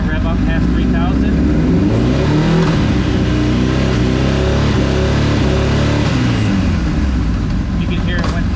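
A 2006 Honda CBR1000RR motorcycle engine revving loud and close, rising past 3,000 rpm with quick-shifter gear changes and no clutch, a dense continuous roar with stepped pitch shifts.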